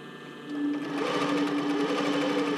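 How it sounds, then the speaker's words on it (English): A sewing machine stitching a bra cup seam runs at a steady, close whir, slightly quieter at first and then settling into an even, continuous buzz with no talking. "I'm just gonna continue sewing, pivoting it a tiny little bit at a time."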